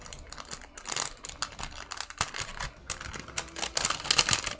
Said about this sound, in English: let's open this up and take a look at these stickers in here now.